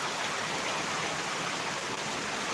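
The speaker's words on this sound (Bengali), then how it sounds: "এত জোরে বৃষ্টি পড়তেছে যেটা বলার মতো না" Heavy rain pours down steadily as a dense, loud, unbroken hiss of falling water, with no voices.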